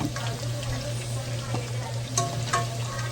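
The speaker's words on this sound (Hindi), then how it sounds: "भिंडी को मैं जल्दी से ऑयल में फ्राई कर लूँगी" Okra (bhindi) frying in oil in a home kitchen gives a steady, close sizzle over a low hum, with a few sharp clinks of stirring near the end.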